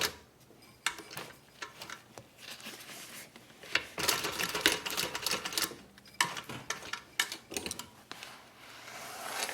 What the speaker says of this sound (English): We're going to stitch across, and then I'm just going to do a little back stitch to end it.